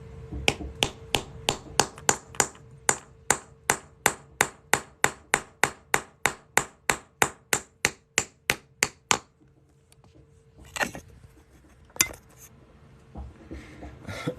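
Rapid, evenly spaced light metallic hammer taps on a coin being shaped into a ring, around thirty in a row, then a pause followed by a few scattered knocks and clatter.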